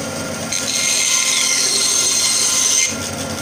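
Ryobi RBS 5518 band saw running in a workshop, its blade giving a loud steady whirring rush that starts sharply, holds evenly for about two seconds, then drops back to a lower idle hum.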